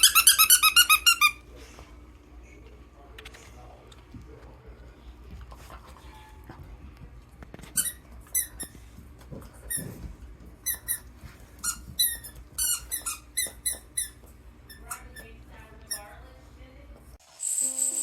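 Squeaky toy eggs squeak in irregular bursts, quick shrill squeals coming in clusters, with a sharp squeal at the start and quiet stretches between.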